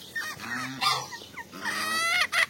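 A Franconian goose honks repeatedly up close, loud nasal calls in short irregular bursts, with a few softer clucking notes between them.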